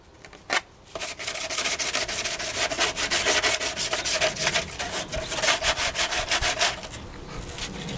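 A classic Honda roadracer motorcycle body being hand sanded with sanding discs, rapid rhythmic scraping strokes close up, steady and continuous after a brief pause at the start.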